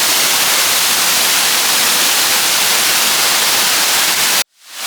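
The Curug Sadim waterfall near Bandung, Indonesia, roars as a dense, constant, hiss-like rush of falling water heard up close, filling the air loudly until it cuts off abruptly near the end.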